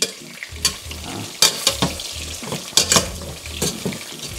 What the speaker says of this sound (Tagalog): nakita nyo parang medyo napiprito na yung liempo